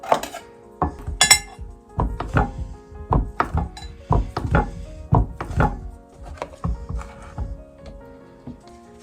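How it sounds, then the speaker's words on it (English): Butter for an apple pie crust is cut into cubes with a knife, giving a close series of sharp taps and clinks against the board or dish, irregular at first and then more rhythmic, with no one talking. "I'm going to chop up my rest of my butter that I have into cubes."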